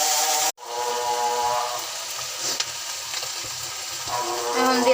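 Onion paste, with ginger-garlic paste, hitting hot oil in a pan, a brief cut and then a continuous loud sizzle and hiss close by, with faint voices near the end.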